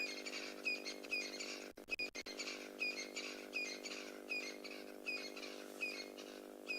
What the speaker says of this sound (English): Also here, all the birds chirping for one last time.